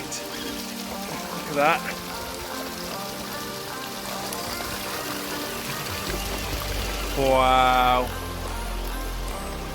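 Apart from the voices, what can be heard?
rain falling on people outdoors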